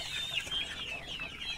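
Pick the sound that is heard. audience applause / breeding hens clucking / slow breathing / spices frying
breeding hens clucking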